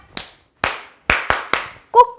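Five sharp, close hand claps in a crab-clap routine during an online stretching class, uneven in spacing with the last three coming quickly together, followed by a voice starting to speak at the very end.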